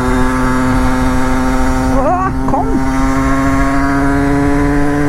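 A Rieju MRT 50 moped with a 50cc engine revving while climbing a hill, a loud, close, sustained high-pitched engine drone; a voice briefly interjects midway.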